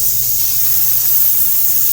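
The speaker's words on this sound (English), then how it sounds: "Give it a nice little spray." Cooking spray hisses into a ceramic pie dish in one continuous close, bright spray lasting about two seconds, with a faint low hum underneath and no talking.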